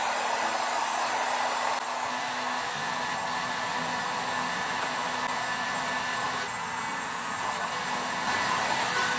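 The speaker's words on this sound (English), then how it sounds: "let me dry this real quick" A handheld dryer blows air to dry blue paint on a vintage-style decorative book craft, a loud, steady whooshing hiss with a faint motor whine, running continuously and close.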